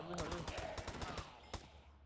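Rapid bursts of gunfire from a gun in a Minecraft zombie apocalypse game, a quick rattling string of shots followed by one louder crack, heard faintly.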